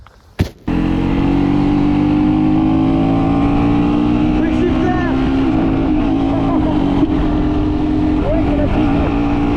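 A 2025 KTM Duke 125 motorcycle engine drones loudly and close after a brief start, holding a steady high rev with slight rises and falls for several seconds, no voices over it.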